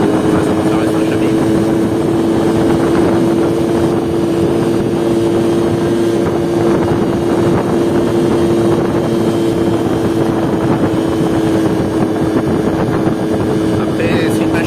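A Yamaha Chappy LB50 moped engine drones steadily and fairly loud throughout, with a constant buzzing tone, wind rumble and a voice talking faintly underneath.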